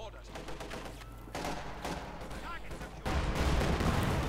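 Gunfire and explosions from a Company of Heroes 2 battle, a steady dense rumble of shots and blasts that grows heavier toward the end, with a commentator talking over it.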